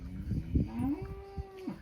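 Cattle on a farm in Palani, one giving a drawn-out, rising low moo over rustling and muffled background sounds, close and moderately loud.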